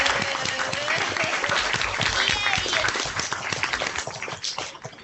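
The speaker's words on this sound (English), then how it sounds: "please join me in giving a warm round of applause to Class of 1984 Hall of Fame inductee, Will" Warm applause for a Pro Football Hall of Fame inductee, dense sustained clapping from an audience with some voices and cheers mixed in, steady then thinning toward the end.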